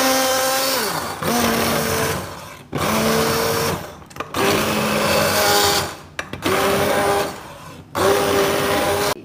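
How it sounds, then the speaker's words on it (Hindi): An electric hand beater mixing beef haleem, its motor whirring loudly in six bursts of about a second each, the pitch dipping as it bogs down in the thick mixture, with short pauses between. "थोड़ा सा हम बीटर चलाएंगे, हैंड बीटर"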